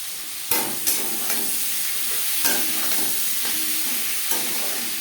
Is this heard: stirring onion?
yes